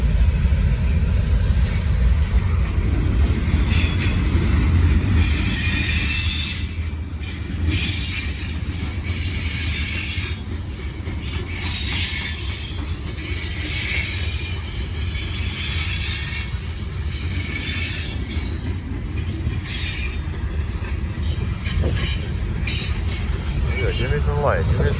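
Heavy Norfolk Southern freight train 154, roughly 17,000 tons with a Union Pacific mid-train distributed power unit, rolls past close by in a continuous loud rumble of wagons and wheels, with faint wheel squeal and voices talking over it.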